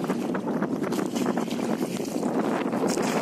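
Boat ride on the water at Muttukadu Boat House, East Coast Road, Chennai: a steady close rush of hull and water mixed with buffeting wind against the microphone, with no break.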